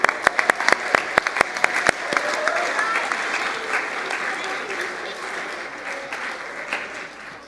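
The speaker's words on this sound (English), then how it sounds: "One more round of applause for Amy." A synagogue congregation at an early Hanukkah Shabbat service claps warmly, with a few sharp near claps at first blending into a sustained, moderately loud wash of applause that tapers gradually.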